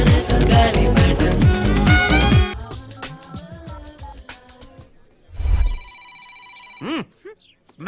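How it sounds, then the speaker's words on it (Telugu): A telephone rings with a short, bright electronic tone, heard after loud film music fades out, followed by a softer repeat. "మోగుతున్న ఫోన్ ఎత్తావు గాని నువ్వు ఎత్తుకో"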